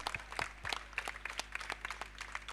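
Scattered crowd applause at a cricket grand final, a loose burst of hand claps of moderate loudness that keeps going steadily, with no talk over it.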